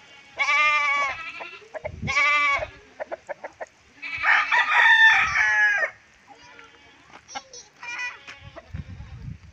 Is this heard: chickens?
yes